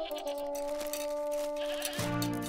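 Goats bleat over a sustained musical tone, a drawn-out bleating call near the end, with no talking.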